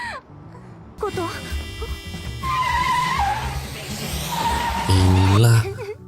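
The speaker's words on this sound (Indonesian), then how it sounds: "terdapat mobil melaju begitu kencang ke arah dirinya" In an anime episode, a car speeds toward a person with a loud revving engine and screeching tires that build over several seconds, mixed with a voice talking.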